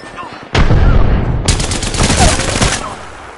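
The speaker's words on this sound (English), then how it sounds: "They're shooting at me" Heavy gunfire in a PS4 shooter game: a loud sustained burst of rapid shots starts abruptly, pauses briefly, then a second dense volley follows, close and dominant with faint voices underneath.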